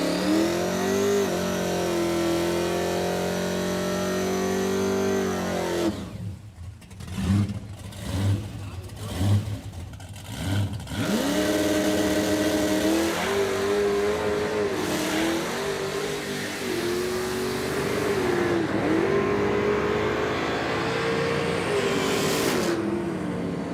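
A 440ci V-8 1968 Dodge Charger makes its first quarter-mile drag pass: a loud, sustained engine roar that surges, breaks into choppy bursts as the tires spin, then pulls hard and steady again, with voices talking throughout.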